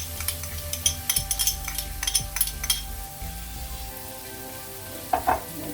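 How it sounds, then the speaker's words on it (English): Garlic and butter sautéing in a pan give a steady low sizzle, while a utensil scrapes and clinks against the pan in a quick run of stirring taps, with a couple more clinks near the end. "give it a little stir first, let that saute in my garlic and my butter"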